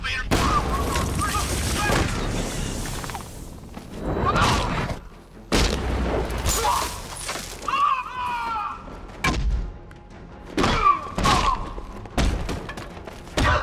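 Gunfire blasts a door off its hinges in Batman: Arkham Knight, heavy booming thuds landing in a rough series of about half a dozen loud impacts over a continuous rumbling game backdrop.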